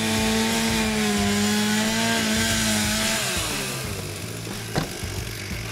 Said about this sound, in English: The sawyers will now cut through two rafters and then stop.